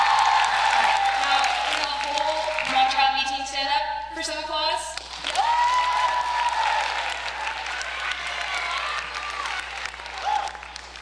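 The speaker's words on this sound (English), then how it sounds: "can the whole mock trial B team stand up for some applause?" A chapel audience applauds a school mock trial B team, steady clapping with some cheers and whoops, while a voice speaks over the applause throughout.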